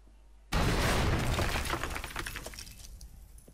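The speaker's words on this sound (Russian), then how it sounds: "Выстрел, что надо." A loud gunshot in the video game Assassin's Creed Unity, a sudden sharp burst with a cracking, shattering edge that decays over about three seconds of noisy tail, heard alone without voices.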